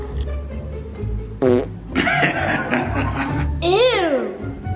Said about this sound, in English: Maybe you have to fart.